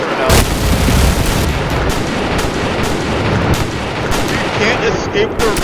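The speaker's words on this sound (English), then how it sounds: "You can't escape the rotary auto cannon." A rotary autocannon fires in a storm chasing video game, a loud, dense roar of rapid shots with sharp bursts that runs almost without pause.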